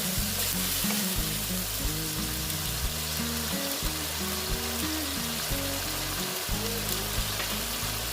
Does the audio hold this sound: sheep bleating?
no